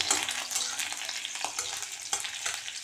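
Chopped garlic and chilli fry in oil in a wok, a continuous close sizzle with small crackling bursts and the scrape of stirring, no voices.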